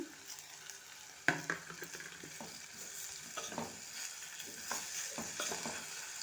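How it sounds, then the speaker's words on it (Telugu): Potatoes sizzle steadily in hot oil for a potato tomato curry, with a sharp clatter early on and repeated scraping stirs of a spoon through the pan; no voices. "ఇలా ఆలుగడ్డలు వేసి ఇలా కలపాలన్నమాట"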